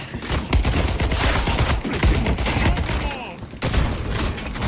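Rapid gunfire and grenade blasts in a 4v4 video game match crackle in dense bursts throughout, loud and busy, with a brief lull before the shots resume.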